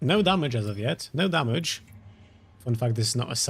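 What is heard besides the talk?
No everyday noise stands out behind the speech.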